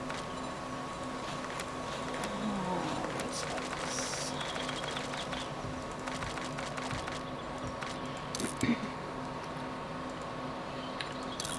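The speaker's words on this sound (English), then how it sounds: "I do apologize for the background noise, folks, but unfortunately, air conditioning has to be running." Background air conditioning gives a low, steady tonal hum that never changes. Faint clicks and taps sit over it now and then.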